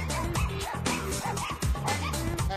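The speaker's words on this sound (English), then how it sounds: "And what kind of dog is Leap? He's an Ibiza hound" A dog, an Ibizan hound performing in the SuperDogs show ring, gives loud yipping, whimpering barks in a steady run of short bursts, close and prominent over the arena sound.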